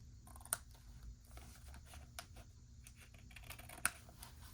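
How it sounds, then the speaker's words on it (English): Scissors cut paper for a green-themed glue book, giving a couple of sharp, faint snips against a quiet room, with no talking. "let's just cut these off here"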